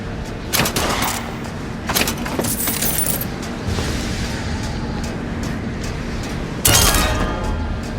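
Bursts of gunfire in BioShock Infinite's Burial at Sea Episode 2, sharp broadband volleys recurring across the stretch, the loudest near the end, over steady game ambience with no talk.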